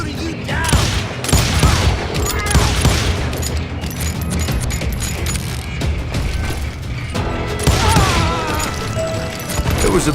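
Gunfire and crashing combat noise in the western shooter Call of Juarez Gunslinger, loud and continuous with repeated shots and impacts, a voice faintly mixed in.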